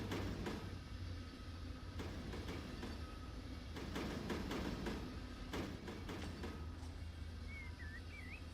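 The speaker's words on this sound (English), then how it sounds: "Train moving." A freight train rolls along in the Run 8 train simulator game, a steady low rumble with repeated rhythmic clacks and bangs of cars over track, plus a brief high squeal near the end.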